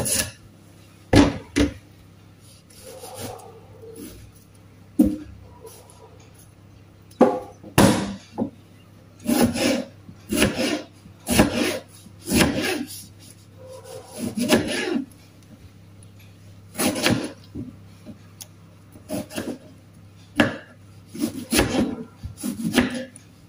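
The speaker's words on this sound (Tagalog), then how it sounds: "Kukuha ako ng kamatis. Hatiin lang na naman." A tomato is sliced on a wooden board in irregular bursts of close, sharp knife chops, with quiet pauses between cuts.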